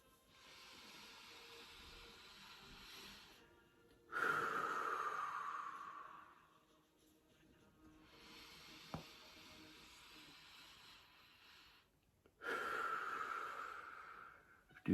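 A person takes slow, deep breaths as a calming exercise, with two long hissing exhales close to the microphone separated by quieter pauses and faint inhales, in an otherwise hushed room.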